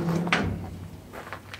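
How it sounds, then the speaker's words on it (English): Barn-style doors on a custom-built landscape trailer swinging open, with a few close knocks and clunks of the doors and hardware moving, followed by quieter rattles. "And now the doors open like barn door style."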